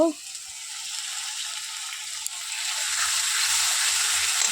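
Spices sizzle in a hot pan for Bengali aloo dum, a steady close frying hiss that swells slightly toward the end, with a few soft low knocks beneath it.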